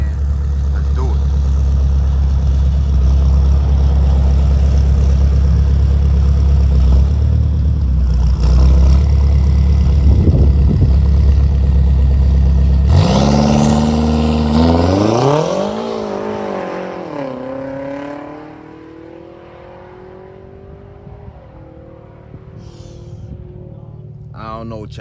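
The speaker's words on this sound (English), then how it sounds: "M5's going for another pass right now" BMW M5 Competition at a roll racing event, a loud, steady engine drone that swells, then sweeps upward through several revving climbs before dropping away, with speech-like sounds under the engine.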